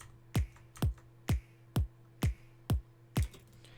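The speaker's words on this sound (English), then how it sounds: "I added in a snap with it" A snap sample placed in a music beat, sharp dry clicks striking seven times at an even, steady pulse over a low droning bed, close and prominent.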